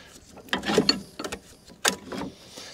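An Allen key tightening the cylinder bolts on an Atco Balmoral cylinder mower gives a few close, sharp metallic clicks and ratcheting scrapes in separate bursts, with quiet gaps between them.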